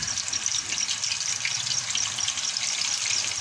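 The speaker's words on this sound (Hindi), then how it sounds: "चलिए हम आपको फ्राई कर दिखाते हैं" Raw chicken kebab mince sizzling in a little oil over low heat, a steady, even hiss and crackle that stays close and constant, with no one talking.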